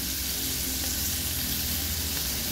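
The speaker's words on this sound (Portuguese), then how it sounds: "Aí eu vou deixar vou dar uma boa fritada nesse bacon" Bacon sizzles and crackles in a frying pan in a home kitchen, a loud, continuous fat-spitting hiss that fills the whole moment without speech.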